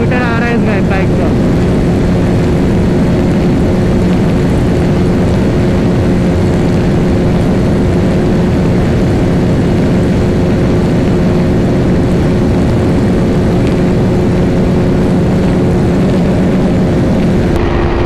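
A Yamaha R15, Bajaj RS200 or Pulsar 220F motorcycle races at full power, a loud, continuous, saturated engine roar with a steady drone and heavy wind rush lasting the whole stretch.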